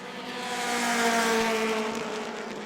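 Stock cars racing at New Smyrna weekly racing, an engine roar that swells and fades as the cars sweep past, loud and close for a couple of seconds.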